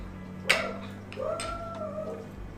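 A dog barks once sharply from a distance at someone out front, followed by a drawn-out howling or whining tone, with a steady low hum underneath.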